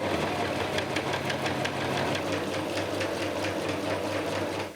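A sewing machine stitches two rows of gathering stitches on a dress, running at a fast, even mechanical rattle close by for several seconds before stopping abruptly.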